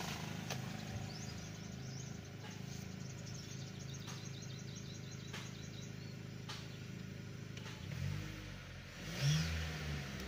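A Ford Territory engine idles with a steady mechanical hum, then revs up briefly near the end before settling; no talking.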